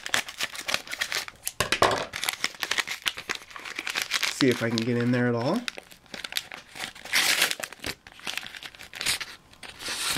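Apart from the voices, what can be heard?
opening plastic Pokemon card pack with scissors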